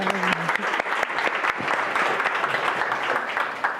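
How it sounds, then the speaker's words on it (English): A crowd at a FemTech startup event applauds to welcome the moderator, a dense, continuous patter of many hands lasting several seconds at an even, moderate level. "Give lots of applause."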